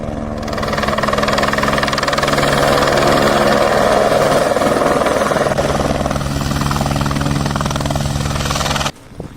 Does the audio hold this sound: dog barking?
no